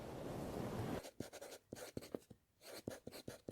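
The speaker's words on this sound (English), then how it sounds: "That's the sound of the pencil lead touching the piece of paper." A pencil scratches across paper in short, quick strokes after a second of hiss, each stroke a crisp near scrape with brief pauses between.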